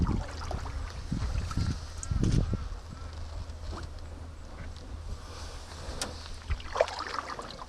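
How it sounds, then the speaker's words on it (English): Ducks quacking on a lake just behind a small boat, a few faint scattered calls over low water and hull noise, the quietest moments nearly still. "I can hear them quacking right behind me."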